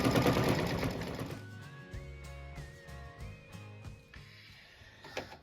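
Embroidery sewing machine stitching a close satin stitch, running steadily with a rapid, even mechanical whir and needle chatter that shifts pitch slightly; moderately close with no talking.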